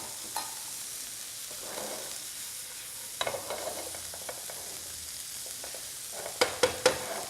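Shiitake mushrooms and peppers sizzling in a frying pan, a steady low hiss with a few sharp clinks and taps of a utensil, loudest toward the end.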